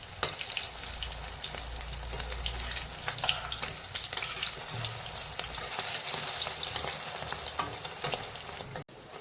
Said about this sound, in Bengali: এবারে আমি উল্টে দেবো।